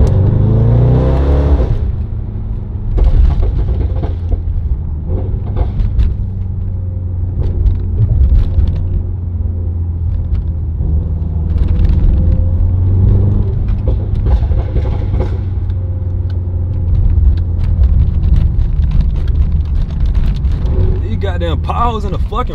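A blacked-out Mercedes-AMG GT63s engine rumbles loudly and continuously on a late-night drive, with the deep roar swelling and easing as the car speeds up and slows down, while someone talks over it.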